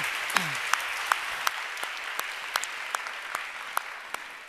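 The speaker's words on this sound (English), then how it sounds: "Let's give them an applause." Audience applause at a women in tech award ceremony, a steady wash of many hands clapping with a few louder individual claps standing out, tapering slightly toward the end; a brief vocal sound rises early on.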